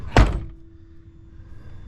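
A BMW E24 coupe door with a slightly misaligned, protruding corner shuts with a single solid thunk, followed by a faint lingering hum in the quiet afterward.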